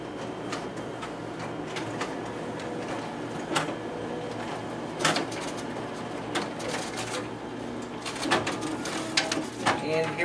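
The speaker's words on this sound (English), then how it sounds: "Document feeder, and it is working properly." A Xerox WorkCentre 7545 copier's document feeder runs with a steady mechanical whir, broken by occasional sharper clicks and clunks as sheets pass through, close and fairly loud.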